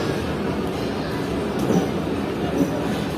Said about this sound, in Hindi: तो तकरीबन 5 मिनट रुकने के बाद ट्रेन मूव होना शुरू हो चुकी है।